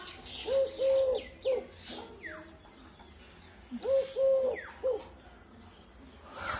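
A pet dove calls in repeated soft cooing phrases, two clear bouts a few seconds apart, close and fairly loud over light background noise, with no talk.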